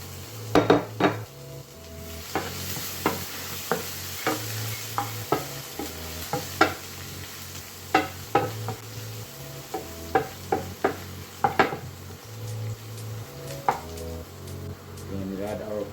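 Garlic fries in olive oil in a pan with a soft, continuous sizzle beneath frequent close clinks and scrapes of a utensil stirring against the pan.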